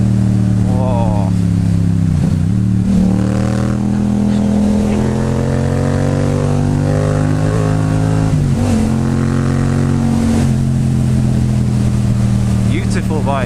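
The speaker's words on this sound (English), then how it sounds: "Beautiful bike, and of course it sounds like an absolute monster." A motorcycle engine revs and pulls hard while being ridden, its deep, throaty tone rising and dropping through several gear changes, loud and close, with wind rush throughout and no talk.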